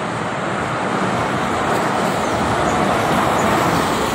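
Steady, loud roar of motor traffic on the Jakarta-Cikampek toll road as several Prima Jasa buses pass, a continuous broadband rush with no breaks and no voices.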